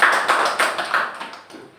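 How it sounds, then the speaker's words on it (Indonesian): A classroom group claps for a student in a short burst of quick, rhythmic applause that fades toward the end, with no talking over it. "Tepuk tangan dulu untuk Mbak Zahra."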